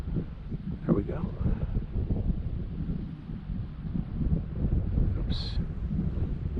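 Wind buffets the microphone while sailing, a continuous low rumbling roar with a person speaking over it.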